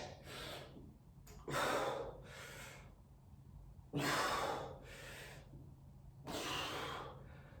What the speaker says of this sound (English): Breathe in as you go down. Breathe out and push.